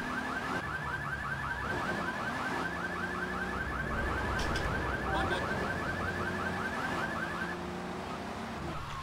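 A car alarm in the video game GTA 3 Definitive Edition whoops in a steady, fast repeating cycle for most of the stretch, loud and continuous over background game ambience, then cuts off near the end.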